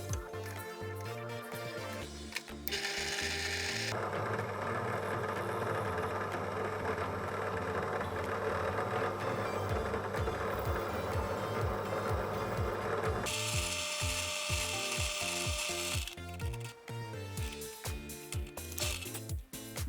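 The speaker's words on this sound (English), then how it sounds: "I'll use this 2mm drill to drill onto the stainless steel handle" A power drill with a 2mm bit whirs steadily for several seconds, its pitch shifting as the bit bites into a stainless steel speargun handle, with brief mechanical clicks and handling noise before and after.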